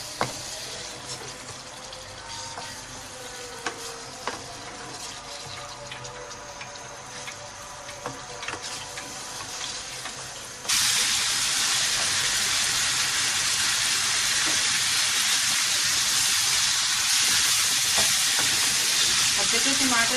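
Tomatoes frying in a hot pan while cooking turnip, spinach and mutton curry: a steady, loud broadband sizzle that jumps sharply louder halfway through as the tomatoes hit the oil, then holds a dense continuous crackle.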